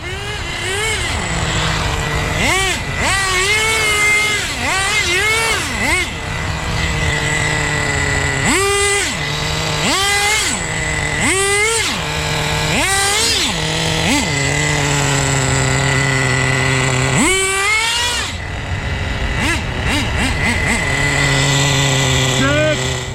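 An Associated RC10GT gas RC truck with an old .15 engine screams through repeated rising and falling revs, loud and close, with a person talking over it at times.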